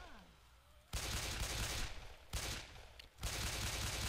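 Shotgun blasts in the zombie shooter Left 4 Dead 2, swamp level: three loud, close bursts each sustained with a dense roar and rumble, separated by short quieter gaps.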